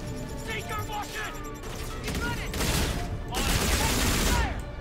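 Continuous rapid gunfire from automatic weapons in Call of Duty: Infinite Warfare, dense bursts overlapping for several seconds, loud and close, with brief higher mechanical clinks mixed in.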